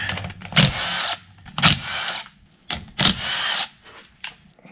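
Power tool removing 10 mm bolts from a transmission top plate, several short whirring bursts of about half a second each separated by pauses, loud and close, no talking.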